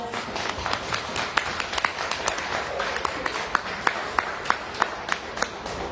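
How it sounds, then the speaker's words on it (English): Voters at a city council candidate forum clap for the candidates, a fairly quiet spread of scattered handclaps with a few sharper individual claps standing out, heard from some distance in a room. "If you'll join me in a round of applause"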